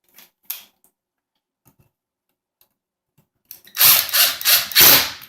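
Power drill tightening a C6 bolt through the chest of a plastic foosball player on a KICK Royalton 55-inch table: after a few light clicks, a loud close burst of ratcheting whir runs for about two seconds in uneven pulses.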